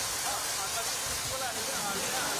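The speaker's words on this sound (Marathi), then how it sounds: "विजांच्या कडकडाटासह धो धो पाऊस सध्या नागपूरमध्ये कोसळतोय" Heavy rain pours down during a thunderstorm in Nagpur. It makes a dense, loud, continuous hiss of water striking surfaces, steady and unbroken throughout.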